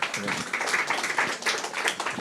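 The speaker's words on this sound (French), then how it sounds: "On peut les applaudir encore." An audience claps steadily after a startup pitch at a Finance Innovation label event, a dense, even patter of many hands that fills the whole moment without letup.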